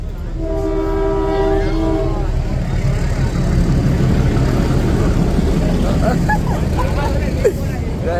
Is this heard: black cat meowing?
no